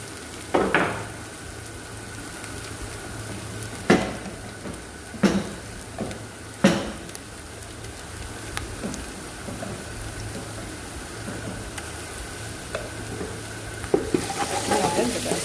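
Onions fry with ground garlic and ginger in a pot for a spicy Ethiopian lamb and vegetable stew. A steady soft sizzle runs throughout, broken by a few sharp utensil clanks from stirring.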